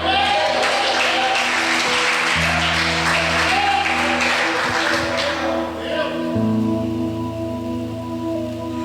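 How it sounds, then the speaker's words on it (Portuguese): A church congregation bursts into sustained applause during a worship service, dense clapping that sounds like heavy rain, with organ or keyboard chords held beneath and voices rising faintly within the crowd. "Se você recebe, diga amém e aplauda o Senhor."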